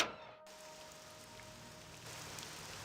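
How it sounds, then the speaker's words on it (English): Steady rain hisses across every surface in the Morrowind game world, a dense, even downpour that carries on alone without any talk. "there's no occlusion for this rain. I thought this rain would stop at the top, but it's falling everywhere"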